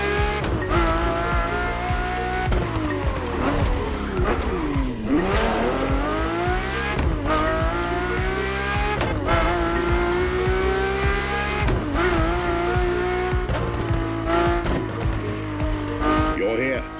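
A Ferrari F50 in the racing game The Crew Motorfest howls continuously, its engine pitch rising and falling through gear changes and tire squeal, loud and unbroken throughout.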